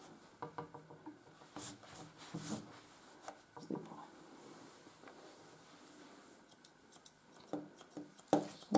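Grooming scissors trimming the leg hair of a Miniature Schnauzer, heard as quiet, close rapid snips in irregular bursts with soft rustling and brief pauses between runs of cuts.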